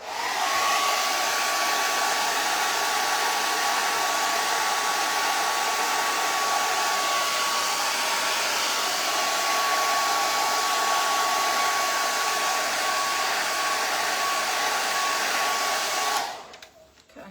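A hair dryer blows continuously on a pastel painting of a snowman, giving a loud, even whoosh with a thin whine. It runs steadily for about sixteen seconds, then cuts off abruptly.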